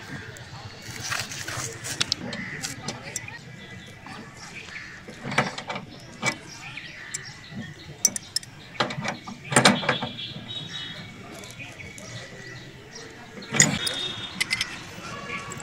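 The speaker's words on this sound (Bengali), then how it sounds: "তাই নাটটা টাইট করার আগে বেশ সুন্দরভাবে বসিয়ে নিচ্ছি পাইপটি, তারপরে রেঞ্জের মাধ্যমে টাইট করব।" A wrench works a flare nut on a split air conditioner's copper pipe at the outdoor unit valve, giving irregular metallic clicks, clanks and ratcheting taps, close and moderately loud, with a voice talking under and between them.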